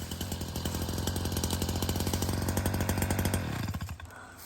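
A Stihl HS 82 T hedge trimmer's small two-stroke engine runs loud and close with a fast, buzzing pulse before being shut off and winding down near the end.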